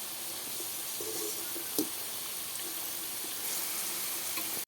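French fries deep frying in hot oil give a steady, close crackling sizzle that holds for several seconds, with a small clatter near the middle and an abrupt cut at the end.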